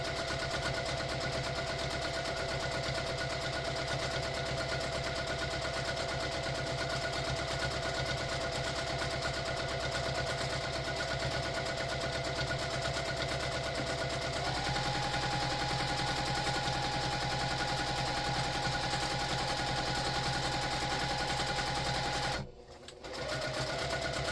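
Sewing machine stitching a fabric basket, a long unbroken run of fast, loud, close mechanical chatter that shifts pitch slightly midway and cuts out briefly near the end.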